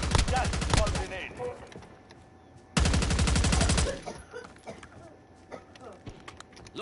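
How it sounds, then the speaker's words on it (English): Teammates in a battle-royale shooter fire two long, loud bursts of rapid automatic gunfire, separated by a short pause, then scattered quieter shots and clatter. "Why are you shooting at me"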